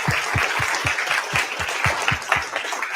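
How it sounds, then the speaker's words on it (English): After a university talk on free speech and equality, an audience claps steadily in a brisk, even rhythm, the crowd's applause clear and close with no talking. "I hope that you will join me in giving a round of applause to say thank you."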